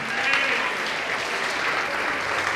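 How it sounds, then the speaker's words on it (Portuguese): A church congregation at a Portuguese-language worship service claps together in a sustained, even burst of applause, close and fairly loud, with no break for the whole stretch. "Vamos aplaudir mais ao nome do Senhor."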